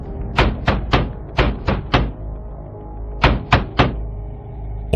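Knocking on a door: two quick bursts of sharp, loud raps, six in the first run and three more after a short pause, with no talk over them.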